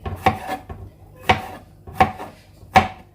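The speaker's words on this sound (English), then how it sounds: "Oh, chop, chop, chop, chop." Knife chopping peppers on a cutting board, four sharp, evenly spaced chops ringing out close and clear with nobody talking.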